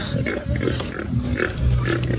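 Pigs grunting and snuffling close by, a steady jumble of low grunts with a few higher squeals, no talking.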